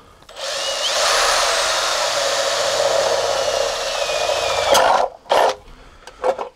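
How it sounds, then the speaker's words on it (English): A power drill bores through an outdoor electrical outlet box with a sustained high whine for about four seconds, followed by a few short, sharp bursts as the bit cuts and stops. "I'm going to drill through the middle of this and put the wire through that."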